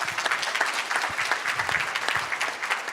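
Audience at a dinner talk applauding steadily, a dense, sustained clapping from a room full of people with no break.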